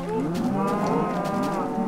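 Cows in Minecraft moo loudly and close, with long overlapping lowing calls that fill the moment without any talk.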